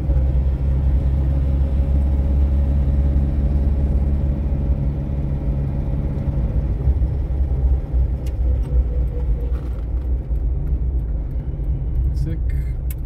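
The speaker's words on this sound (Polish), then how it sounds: "wiem, że przyjedziemy Polonezem" A Polonez car driving along, its engine and road rumble steady and close from the cabin, with people talking over it throughout.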